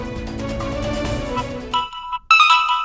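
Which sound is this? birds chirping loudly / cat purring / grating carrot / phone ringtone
phone ringtone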